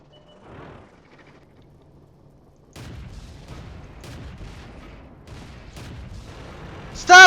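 Tank cannon shells fire in World of Tanks from a Cruiser Mk.1, a run of repeated booming shots over a low background rumble, ending in one loud, sharp blast.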